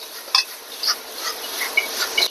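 Guo bao rou, battered fried pork, tossed quickly in a wok with a thick sauce of melted sugar, giving soft scraping stir and light sizzle with a few sharper clinks, moderately quiet and steady with no talk.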